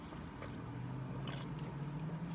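Close, quiet chewing of a steak sandwich from a food truck, with soft squishy bites and mastication sounds repeating over a couple of seconds.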